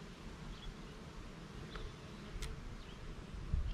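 Honey bees droning around a hive used for walk-away splits, a soft continuous outdoor hum with faint passing buzzes, low in level and heard alone.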